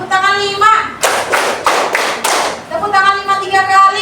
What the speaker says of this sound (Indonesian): tepuk tangan 1, tepuk tangan 2, tepuk tangan 3, tepuk tangan 4, tepuk tangan 5